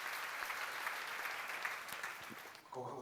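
A church seminar audience applauds during a sermon-style Bible lecture, producing dense, continuous clapping for most of the moment. The clapping fades out and a voice starts speaking just after it ends.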